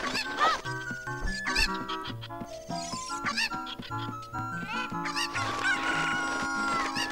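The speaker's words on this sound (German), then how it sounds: "können wir die Hühner leichter finden" Chickens cluck and a rooster crows in the Zelda Ocarina of Time video game, busy overlapping clucks and squawks over bouncy game music with plucked notes, fairly close and lively.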